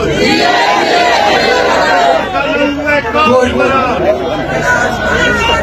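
A crowd at a political rally announcing a long march on Quetta chants slogans loudly in unison, voices rising and falling in rhythmic calls close by.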